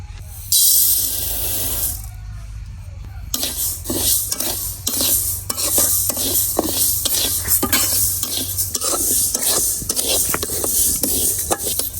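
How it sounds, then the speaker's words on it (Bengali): Moong dal being dry-roasted in a wok, heard as loud, continuous scraping and stirring with dry rattling strokes in a steady rhythm, with a brief hiss near the start and no talking. "এখন আমি মুগ ডালগুলা আগে ভাইজা নিয়াম।"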